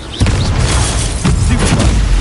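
A Confringo spell explodes in a Harry Potter video game: loud, dense booming blasts roll on almost continuously, with a brief dip midway.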